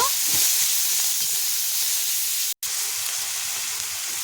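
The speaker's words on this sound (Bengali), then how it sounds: "তারপর পেঁয়াজটাকে ভালো করে আমি ভেজে নেব" Onion paste fries in oil in a wok, a dense steady sizzling hiss up close with faint stirring pulses underneath and one very brief dropout.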